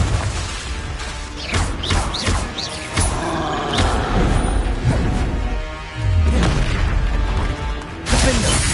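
Repeated blasting explosions of the Confringo spell in a Harry Potter game, a run of sharp booms and crashes spread through a busy combat soundscape.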